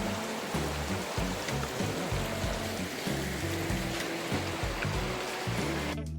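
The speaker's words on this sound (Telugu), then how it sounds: "ఈ నీరు చూడండి ఎక్కడికో పోతుంది" Steady rushing water flowing at a waterfall stream, a continuous close wash of splashing and churning with no break and no voices.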